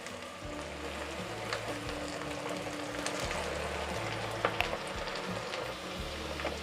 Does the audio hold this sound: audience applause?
no